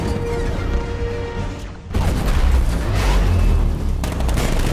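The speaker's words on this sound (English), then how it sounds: "60mm cannon operational." A 60mm cannon fires in Batman: Arkham Knight, a sudden loud boom that gives way to a rumbling, crashing barrage of blasts and debris.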